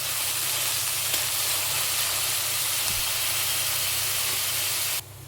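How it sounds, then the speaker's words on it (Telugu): Sliced onions frying in a pan with cloves and cinnamon over low heat, producing a steady dense hiss and sizzle that runs evenly throughout and drops away sharply at the very end. "సన్నగా తరుపున ఉల్లిపాయలు అయితే వేసుకోవాలి. ఇవి ఎర్రగా ఫ్రై అయ్యే వరకు వేయించుకోవాలి."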